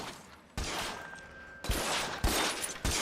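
Gunfire in the L.A. Noire video game: several sharp shots burst out in quick succession, each a loud crack followed by a short decay over a faint steady background tone.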